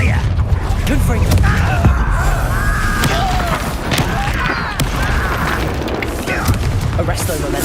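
A Confringo blast spell erupts in Hogwarts Legacy, a loud booming burst amid a dense, busy mix of game effects and voices that continues throughout.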